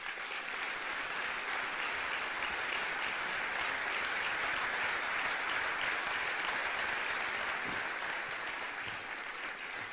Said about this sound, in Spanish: me gustaría que le dedicáramos un aplauso a él y a su familia.